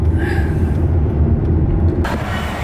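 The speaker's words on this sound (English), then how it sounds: "All right, we're just gonna give this a little gas." A car engine gets a little gas, a steady low rumble that swells slightly and runs continuously up close, with a brighter burst of noise near the end.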